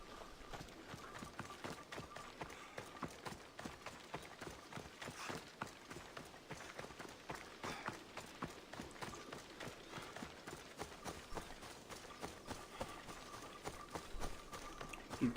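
Horse galloping in Assassin's Creed Odyssey, a steady rapid clip-clop of hooves running continuously at close range, with no talking over it.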